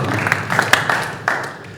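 Audience applause for fighters at a Gama Matrix conference, a short burst of many hands clapping, close and fairly loud, with a voice talking faintly under it.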